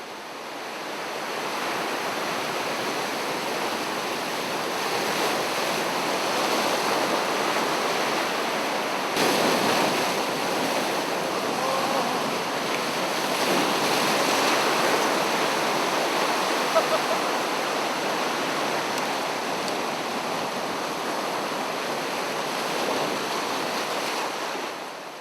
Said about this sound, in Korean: 이제는 파도가 단순히 갯바위를 치는 것이 아니라 낚시하는 사람들을 덮칠 정도였다